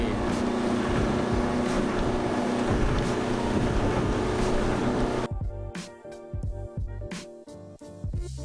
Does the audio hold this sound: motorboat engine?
yes